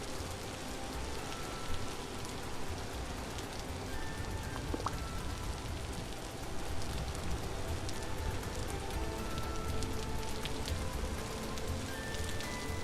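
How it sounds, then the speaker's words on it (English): Steady rain sounds from underwater in a video game, a dense, even patter and hiss that holds at a constant level throughout, with no talk over it. "I really like the sound of rain underwater."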